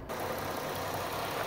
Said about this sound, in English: Underneath the hood, engine idles smoothly.